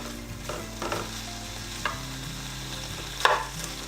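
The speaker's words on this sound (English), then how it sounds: "I have a hot pan. I'm going to add in some bacon." Chopped bacon pieces fry in a hot pan, a steady close sizzle broken by occasional stirring scrapes and clinks.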